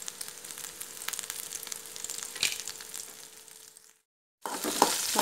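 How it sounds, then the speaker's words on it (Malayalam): Moringa leaves frying in a pan with shallots, green chilies and garlic, a steady close sizzle with scraping stirring strokes, breaking off briefly into silence before the sizzle resumes louder. "നന്നായി ഇളക്കി കൊടുക്കുക."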